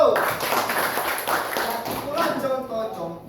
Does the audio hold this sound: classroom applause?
yes